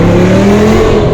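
A BMW E60 M5 engine revs hard and steadily throughout a sideways U-turn, its loud, close, continuous roar holding strong harmonic tones with no talk over it.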